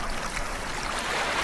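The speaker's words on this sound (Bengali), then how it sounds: "জল এই শব্দ," Flowing water from an online ambient-sound player: a dense, even hiss of running water, constant and close throughout, with no talk.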